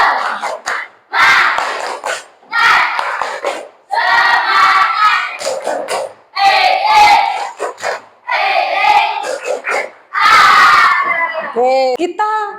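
A classroom of pupils in Yogyakarta chant loudly together in a rhythmic call-and-response, with bursts of group clapping between phrases; several energetic shouted rounds are separated by short pauses, and the voices are close and strong.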